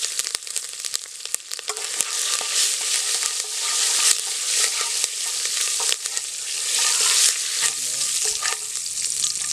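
Fennel seeds, curry leaves and cloves crackle and sizzle in hot oil in a pan while a chicken sukka masala is being cooked, a steady, fairly loud frying hiss with scattered pops and no voices.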